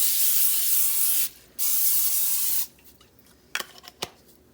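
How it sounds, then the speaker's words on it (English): Two long hissing bursts from an aerosol olive oil cooking spray can, close by, separated by a short pause, followed by a few light clicks and taps. "I'm going to spray with some olive oil spray."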